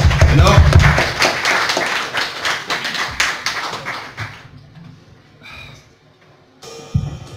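Audience applause for a young performer at a live concert, dense and loud clapping at first that thins into scattered claps and fades, with talk mixed in over it.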